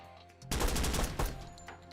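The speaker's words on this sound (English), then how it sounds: "There's a machine gunner in there." Burst of machine-gun fire in a first-person shooter game, a loud dense rattle of rapid shots lasting under a second with a brief echoing tail, no voices.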